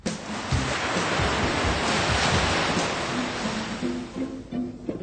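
Ocean surf breaking in a steady, loud rushing roar of waves, broad and continuous with some wind buffeting, no voices.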